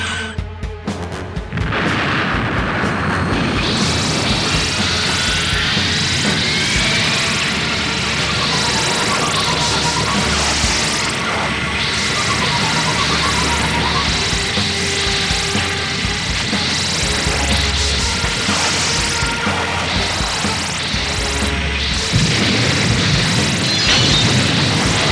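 Sustained loud barrage of weapon fire and booming explosions in a spaceship battle, a dense continuous roar with layered blasts and crashes throughout.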